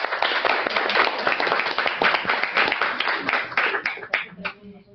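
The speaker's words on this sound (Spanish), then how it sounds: "aplauso." Audience applause at a youth forum event, a fairly loud, even patter of many hands clapping together that holds steady and then trails off at the end.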